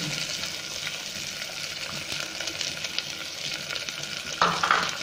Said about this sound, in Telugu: ఇప్పుడు మనం పచ్చి అలసంద విత్తనాలని ఇందులో చేయాలి.